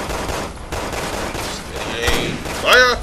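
Rapid gunfire rattles in the Resident Evil 6 video game on No Hope difficulty, a dense burst of shots over the game's background noise, ending in a louder ringing blast.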